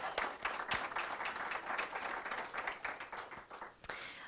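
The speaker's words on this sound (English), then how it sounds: "So if we could give the Poudre High School girls tennis team a round of applause for their Sportsmanship Award," At a school board recognition, an audience claps for the Poudre High School girls tennis team, a lively round of many hands with some sharp individual claps standing out, moderately loud and steady before tapering.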